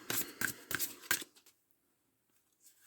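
A card drawn from a deck: a few quick crisp papery flicks and snaps close by, then near silence as the card is set down.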